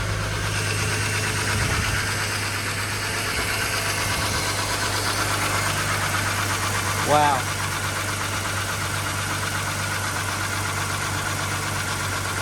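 A sludgy Ford BF XR6 inline-six idles steadily and close after a VCT solenoid replacement, a continuous even drone with a brief exclamation from a person partway through.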